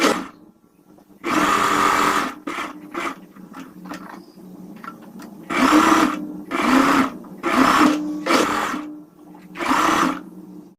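A sewing machine stitches the lining along a blouse armhole in a series of close bursts of varying length, with quiet gaps and small clicks between runs.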